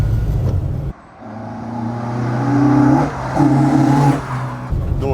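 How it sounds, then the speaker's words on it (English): Ford Escort MK1 with a Zetec engine revving up and down, a brief dip near the start, then the note climbs in rising pulls, loud and close with an old-car tone. "It sounds like an old car as well, though, even for Zetec. It's got like a nice old note to it."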